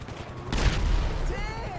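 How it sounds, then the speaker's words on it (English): Rapid crackling bursts of small explosions on a helicopter in GTA 5, a sudden loud burst of popping blasts midway that fades into lingering rumble. "It's like mini explosions on it."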